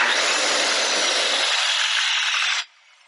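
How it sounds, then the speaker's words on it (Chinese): A power saw used on a backyard fence gate repair runs with a loud, steady whine for about two and a half seconds, then cuts off sharply and leaves only a faint winding-down remnant. "它要花一点时间才能转停下来的，所以这个锯子你要非常非常的注意的"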